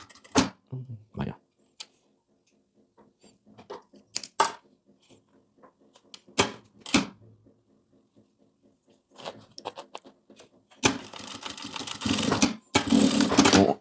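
A sewing machine stitches through a milk carton box in short bursts separated by pauses, with a steady mechanical rattle and a louder, denser run near the end, close up and without voices.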